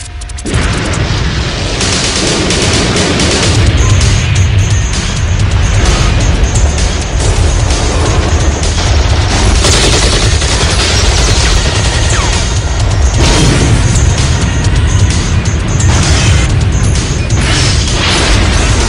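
A loud, sustained volley of gunfire and explosions in an animated sci-fi action scene, with dense rapid shots and booms continuing unbroken for nearly twenty seconds.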